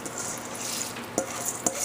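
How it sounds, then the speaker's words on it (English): Rice hitting a hot pan for spinach fried rice with chicken, a soft steady sizzle with a few sharp scrapes and clinks of stirring near the end. "Go ahead and add our rice in here."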